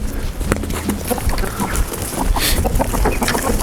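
Farmyard chickens cluck and scratch excitedly after a slightly spoiled tomato is tossed to them in a rural Russian border-village yard, a busy close chorus of short clucks and pecking sounds without talk.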